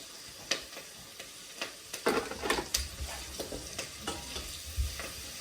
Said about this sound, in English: I'm actually going to put my kale in, just to fry that off a little bit.